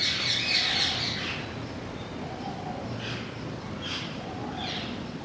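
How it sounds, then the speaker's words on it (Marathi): Birds chirp and squawk faintly outside a cave used for meditation. The calls come in short bursts over a steady hush of outdoor background noise. "पक्ष्यांचा आवाज"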